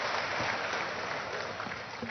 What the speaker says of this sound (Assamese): পুনৰবাৰ উপস্থিত দৰ্শকৰ পৰা এজাৰি জোৰদাৰ হাত চাপৰি